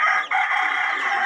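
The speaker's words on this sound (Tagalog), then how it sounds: "pag-usapan po natin ang bago kong alaga na klaseng manok" A single close rooster crow from a newly kept pet chicken, loud and sustained with a brief dip early on before the call carries on steadily to the end.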